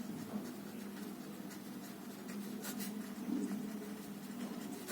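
Pen writing a rational number by hand on paper, a faint steady scratching that runs for several seconds with no talking.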